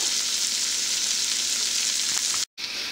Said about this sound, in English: onions are browning up nicely